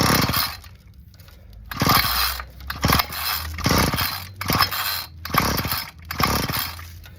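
A two-stroke engine is revved in repeated bursts as more fuel is fed, each rise in pitch followed by a drop back to a rough idle. It is close and loud, with no talking.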